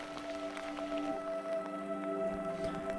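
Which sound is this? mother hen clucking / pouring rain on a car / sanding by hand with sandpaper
pouring rain on a car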